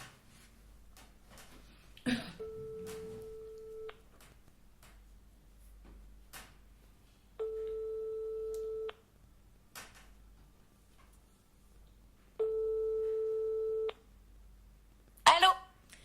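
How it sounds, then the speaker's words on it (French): An outgoing phone call gives a ringback tone: three steady, fairly faint tones, each lasting about a second and a half and spaced several seconds apart over quiet room noise. "Ça sonne."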